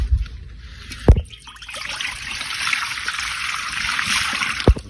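Water poured into a cooking pot, a gurgling splash running a few seconds between brief knocks of the pot, close and fairly soft.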